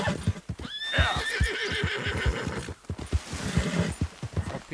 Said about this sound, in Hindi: देखता हूँ मेरा घोड़ा पहाड़ पे चढ़ पाएगा या नहीं.